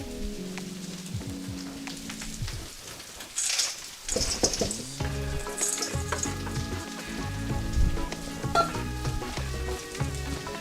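Crispy bacon fried rice sizzles steadily in a hot cast iron pan, a dense crackling hiss with scraping and stirring clatter over it, under faint background tones.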